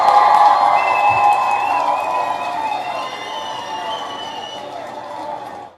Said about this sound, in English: Michaela, I want to give you a round of applause.